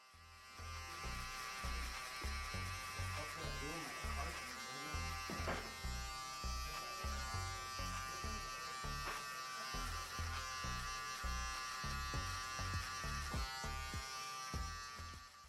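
Electric T-outliner hair trimmer cutting a skin-tight fade, a close, continuous buzzing with rapid pulsing as the blade moves in short strokes through the hair.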